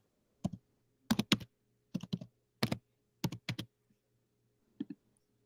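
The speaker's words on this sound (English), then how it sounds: "Okay, I'm typing it in." Several short bursts of typing on a computer keyboard, close and clear, with quick clustered key clicks separated by pauses in an otherwise quiet room.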